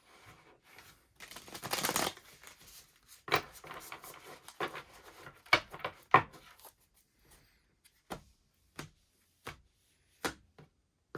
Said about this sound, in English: you can fast forward until I'm done with the shuffling